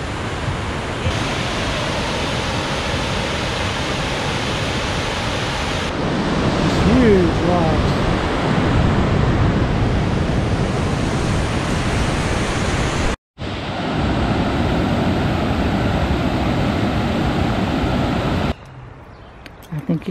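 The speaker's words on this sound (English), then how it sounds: "You can hear the waterfall behind us." A loud, continuous roar of rushing water from a waterfall at High Falls State Park, Georgia, fills the scene, steady and broadband, with a brief dropout partway through and wind buffeting the microphone.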